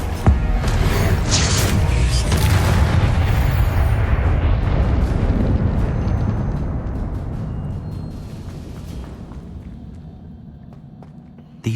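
A Confringo fire spell blasts in the Hogwarts Legacy video game, a loud sustained explosive roar with crackling bursts that rumbles on for several seconds, then slowly fades with a sharp pop at the end.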